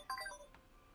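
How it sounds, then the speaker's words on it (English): A phone rings during a live game jam stream, heard as a brief, faint burst of electronic ringtone notes lasting under a second, with no voices. "My phone is ringing and I told everyone I was streaming right now."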